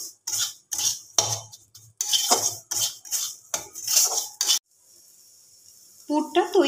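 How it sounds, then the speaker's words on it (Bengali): Utensil scraping and clinking in a bowl as bread crumbs are stirred into a Mughlai paratha filling, in repeated bursts of mixing that stop briefly before a few more scrapes near the end. "ব্রেড ক্রাম্বটা দিয়ে আমি ভালোভাবে মিক্স করছি।"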